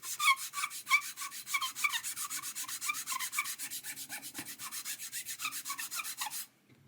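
A hand file rasps rhythmically back and forth against a guitar part, about two strokes per second, close and clear, then stops abruptly near the end.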